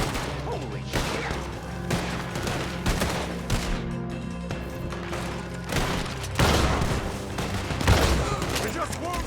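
Chaotic shootout in the Western video game Red Dead Redemption 2, with overlapping gunshots, booms and crashes amid music and shouted voices, swelling louder toward the end.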